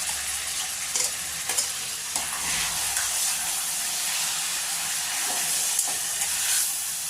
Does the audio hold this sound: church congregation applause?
no